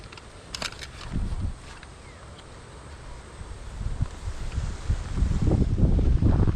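Strong wind buffets the microphone in rising gusts over a tomato garden, with rustling leaves and a low roar that grows louder toward the end. No one speaks.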